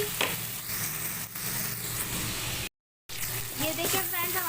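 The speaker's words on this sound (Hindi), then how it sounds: "हमारा मसाला अच्छे तरीके से भून चुका है। अब हम इसमें अपनी अरबी ऐड करेंगे।" Boiled taro (arvi) going into a pan of fried spice masala, with loud sizzling and stirring, a brief total dropout partway through, then the frying resuming.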